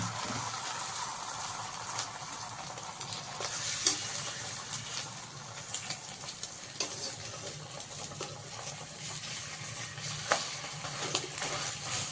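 An egg fries in a pan for an egg chicken roll, giving a steady hissing sizzle throughout with occasional small crackles and pops, close and constant.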